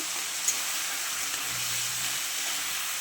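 Rohu fish head and aubergine frying in oil in a pan, giving a soft, steady hiss of sizzling with a faint clink near the start.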